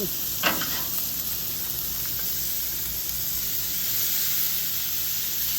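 Red drum fillets topped with minced garlic frying on a Blackstone griddle give a steady, even sizzle close up, with a brief clatter near the start and no talking.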